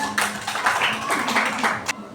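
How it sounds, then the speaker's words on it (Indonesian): A short burst of applause from students in a classroom, many hands clapping together briefly before it stops. "Tepuk tangan."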